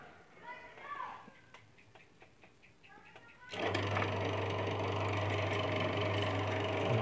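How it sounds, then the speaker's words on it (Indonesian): A homemade machine built from scrap parts for winding speaker voice coils starts up partway through and keeps running with a loud, steady motor hum and rapid ticking; someone talks quietly before it starts. "langsung saja kita nyalakan mesinnya"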